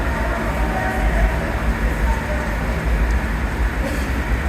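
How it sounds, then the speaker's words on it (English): A train rumbles into Grand Central station beneath the platforms, a steady deep roar and rolling hum filling the space, loud and continuous without clear pauses. "I think I hear a train coming."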